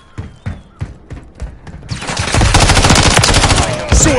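Call of Duty MW3 gunfire: a handful of loud separate shots, then a dense, sustained burst of rapid automatic fire that keeps going to the end, close and harsh.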